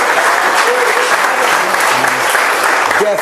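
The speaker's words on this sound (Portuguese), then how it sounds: "aplaudindo o nome desse Deus" A church congregation applauds during worship, a loud, steady clapping wash with a few voices rising briefly beneath it.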